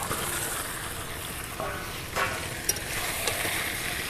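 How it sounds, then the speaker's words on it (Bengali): Chicken curry with fried potatoes sizzles steadily in a pan, a continuous hiss broken by a few brief clinks and scrapes of stirring, close and fairly loud with no talk. "এবার আমি এর মধ্যে ভেজে রাখা আলুগুলো দিয়ে দেব।"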